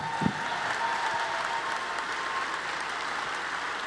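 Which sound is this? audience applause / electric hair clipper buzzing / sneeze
audience applause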